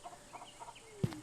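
A spreagle creature in the VR game A Township Tale gives a few soft, chicken-like clucks, faint and a little off to one side, ending in one louder cluck near the close.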